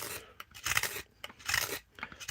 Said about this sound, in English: I'll probably use the gouge a bit more here